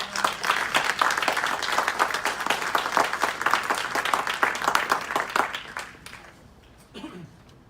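A city council meeting audience breaks into applause, a lively burst of many hands clapping close and loud for several seconds before tapering off into scattered claps and faint murmur.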